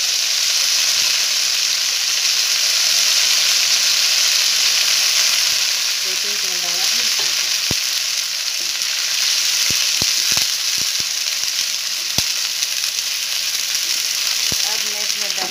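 Yogurt hits spices frying in hot ghee and oil, giving a loud, steady sizzle with a few sharp pops and spatters, no voices present.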